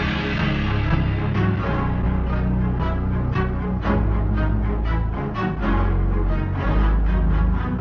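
Dense, full-range pitched-down audio sample for a beat, loud and continuous with heavy low end and repeated rhythmic hits throughout, no voices.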